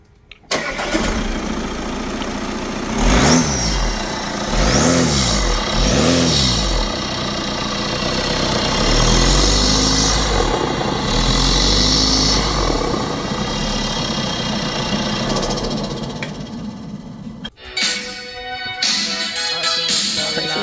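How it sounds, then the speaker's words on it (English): Audi A4 2.0 TDI diesel fitted with a K&N air filter cranks and fires, then runs with a loud, rough clatter and a few revs before settling, with brief faint voices near the end. "I'm just gonna start the car."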